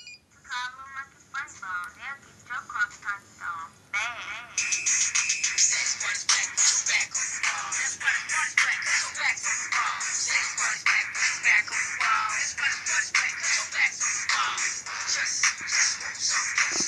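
Novelty Little Mike and Funny Bone phone ringtones play, warbling chirpy electronic tones and busy comic voice sounds that turn into a dense, continuous jumble of bright noise.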